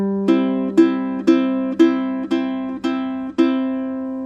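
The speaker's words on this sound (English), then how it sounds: "Take your fingers and pluck these middle two strings at the same time." Seven ukulele chords plucked with thumb and fingers ring out one after another at an even, unhurried pace, each note sustaining and fading before the next.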